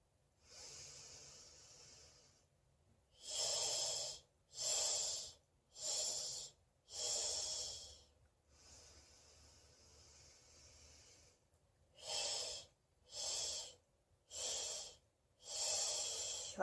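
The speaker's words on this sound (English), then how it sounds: "So let's cut it in fourths. Try to do 4 equal parts. Again, we're going to do 3 breaths." Paced breathing exercise for natural childbirth, each breath split into four equal segments: short, evenly spaced bursts of close airy breath sound in groups of four, separated by longer continuous breaths, with no talking.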